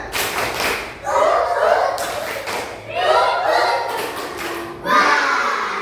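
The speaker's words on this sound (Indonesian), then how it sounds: "1, 2, 3, tepuk semangat." An Indonesian primary school class performs a rhythmic spirit clap, with three loud bursts of clapping and thumping a couple of seconds apart, mixed with children's voices in between.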